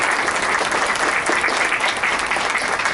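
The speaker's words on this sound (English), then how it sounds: "let's give them a round of applause" Audience applause for sponsors at a University of Alberta leadership event: a dense, steady wash of many hands clapping at full strength for three seconds, with no speech over it.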